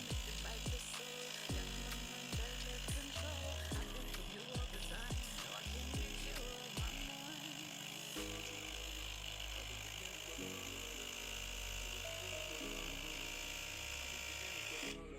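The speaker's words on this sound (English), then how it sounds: "You can twist the hair, or you can twist the machine." A Wix Wicks dreadlock machine running, a continuous close mechanical whirring hum with ratcheting clicks throughout.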